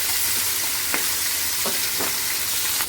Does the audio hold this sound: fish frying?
yes